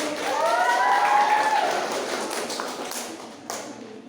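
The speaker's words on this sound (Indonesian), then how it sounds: "Boleh untuk memberikan tepuk tangannya dulu." A school crowd applauds with steady clapping that slowly fades, and a voice briefly sounds at the start, during a language competition.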